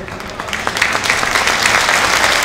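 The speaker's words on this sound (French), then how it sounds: "je vous demande de bien vouloir applaudir Monsieur le sous-préfet" A crowd at a mayor's New Year greetings ceremony breaks into applause for the sub-prefect, the clapping swelling from scattered hands into a dense, loud, steady round.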